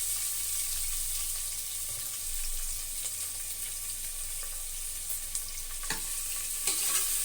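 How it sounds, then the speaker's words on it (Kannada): Chopped onion and curry leaves frying in oil in a pan, a soft continuous sizzle close by, with a few sharp clinks and scrapes of stirring near the end. "2-3 ನಿಮಿಷ ಎಣ್ಣೆಯಲ್ಲಿ ಚೆನ್ನಾಗಿ ಫ್ರೈ ಮಾಡ್ಕೊತಾ ಇದ್ದೀನಿ"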